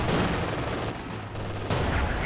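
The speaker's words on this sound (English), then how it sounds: "Incendiary rounds though from the machine gun." Machine gun fire in the real-time strategy game Company of Heroes 2, with incendiary rounds: a short, dense burst of rapid shots at steady loudness, a slight dip midway, then the firing resumes.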